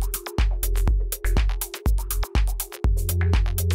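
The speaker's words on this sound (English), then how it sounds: "kind of just background chill chord sounds like this" A laid-back chord stab from a minimal house track repeats in a looping rhythm under a punchy kick drum and crisp hi-hats, loud and steady throughout.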